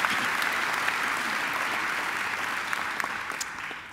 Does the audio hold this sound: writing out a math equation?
no